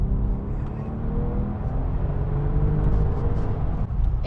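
A 20-year-old Porsche 911 Turbo S (996) accelerates hard, its engine a deep steady roar rising slightly in pitch, heard from inside with road rumble and no talk.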